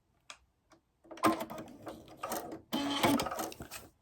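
A domestic sewing machine fitted with a metallic needle stitches in short close bursts, a few isolated clicks first and then rapid mechanical chattering runs, loud and alone.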